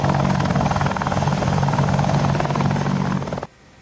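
A Boeing AH-64 Apache attack helicopter flying, its rotor producing a loud, steady, rapid thumping chop with engine whine, close and dominant before cutting off abruptly near the end.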